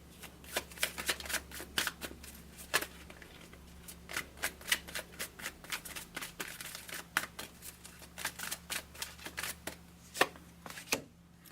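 Tarot cards being shuffled and drawn, rapid riffling and slapping bursts in an uneven rhythm, close and fairly soft, with a low steady hum underneath and no talking.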